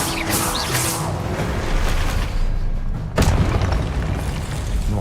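A Confringo spell explosion in Hogwarts Legacy, a loud booming burst partway through amid ongoing combat effects and crashes, with no voice at that moment.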